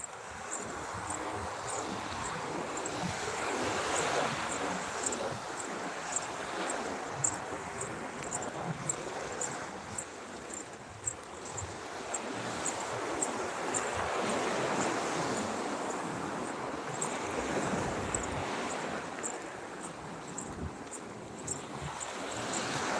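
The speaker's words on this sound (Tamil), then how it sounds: "இன்றைக்கும் கடல் வெள்ளமாக தான் இருக்குது" Rough sea surf off Thoothukudi rolling and crashing in a steady roar, with gusty wind buffeting the microphone throughout; no voices.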